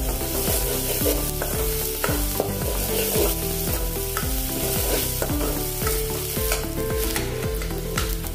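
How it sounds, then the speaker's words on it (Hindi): Chopped onions fry with a spoonful of asafoetida in a pan, giving a steady close sizzle broken by regular scraping stirs throughout, with no voices. "थोड़ा सा प्याज नरम होने के बाद मैंने इसमें हींग डाला है 1 चम्मच के बराबर।"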